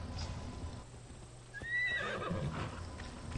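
A horse whinnies in Assassin's Creed Odyssey, a clear rising and falling neigh with a few hoof clops, heard at moderate distance against game ambience.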